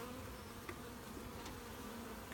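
Honey bees buzzing steadily nearby while a package of bees is installed, a continuous insect drone with a few individual bees passing close now and then.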